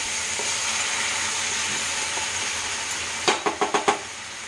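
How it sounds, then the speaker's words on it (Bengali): A small splash of hot water hits masala frying in a pan for a pomfret curry, releasing a steady loud sizzle and hiss that breaks into a quick burst of five sharp spitting crackles near the end. "সামান্য একটু গরম জল দেবো, একদম সামান্য, যাতে মাছের গায়ে মশলাগুলো লাগে"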